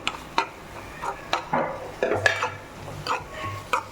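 Masala paste for prawn sukka is sautéed in a pan, with a soft sizzle beneath irregular scraping strokes and light clinks from a stirring spoon.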